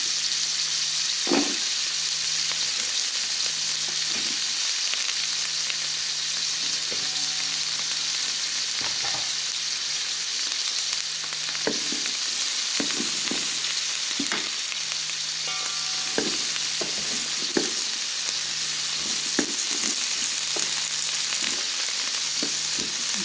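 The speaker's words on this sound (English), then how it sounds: "I'm going to add the snow peas" Snow peas hit hot oil in a shrimp stir fry, giving a steady loud sizzle and frying hiss throughout, with scattered clicks and scrapes of stirring over a faint low hum.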